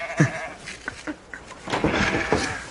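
Goats bleat in a short burst of several quick, close, wavering cries, some overlapping one another, with light rustling between calls.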